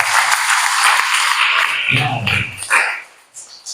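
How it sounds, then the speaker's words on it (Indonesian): A church congregation claps together in a steady wash of applause that fills the first half and then thins out, with a voice speaking over the tail end. "Kita berikan tepuk tangan buat Tuhan."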